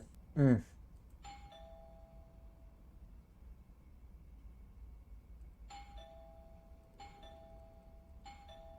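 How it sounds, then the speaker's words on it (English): Doorbell in the video game Within, rung a few times with two-tone chimes spaced apart, moderately loud over a low steady background hum, with a short thud at the start. "I should just ring the doorbell, see if he answers."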